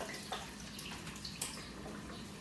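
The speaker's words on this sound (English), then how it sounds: "You've poured 3/4 of a bottle in there." Cheap vodka pours from a bottle into a watermelon daiquiri, a faint continuous liquid trickle with small splashes and glugs, quiet and close.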